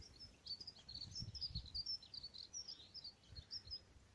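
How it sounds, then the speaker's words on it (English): Several small birds chirp and sing in a hedgerow, faint and somewhat distant, with repeated short high calls spread across the whole stretch over a low background rumble. "As you can hear, hedgerows are alive with bird life at this time of year."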